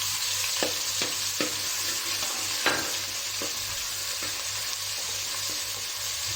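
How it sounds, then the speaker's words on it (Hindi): Ginger garlic paste fries in mustard oil in a pan with a dense, continuous close sizzle and a few light stirring taps, no voices. "बस हल्का सा इसे कुक करना है"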